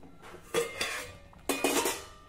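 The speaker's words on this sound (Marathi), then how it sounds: "आता आपण यावर झाकण ठेवू आणि मंद आचेवर हे पिठलं 3 ते 4 मिनिटांसाठी व्यवस्थित शिजवून घेऊ" A metal lid set down on a pot of simmering pithla: two sharp metallic clanks about a second apart, each ringing briefly, close by over a low background hum.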